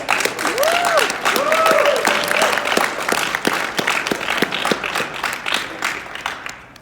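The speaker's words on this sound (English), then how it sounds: "can we just give them a huge round of applause?" An audience at a speech event gives a dense, sustained round of applause that gradually thins toward the end, with voices and a few whoops mixed in.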